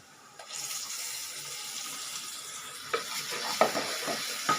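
Ground tomato is poured into a hot pan already seasoned with turmeric and chilli powder for a tomato gravy, setting off a loud rush of sizzling and bubbling, followed by a few sharp spattering pops near the end.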